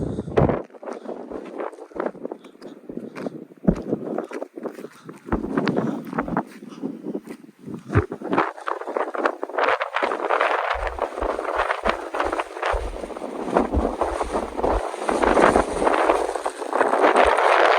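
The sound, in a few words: wind whistling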